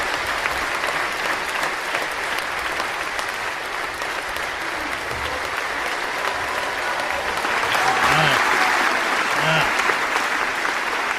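A Camden live-music crowd applauds after a band's set. Steady, dense clapping goes on for about eleven seconds and swells toward the end, with a couple of faint voices and a whistle mixed in.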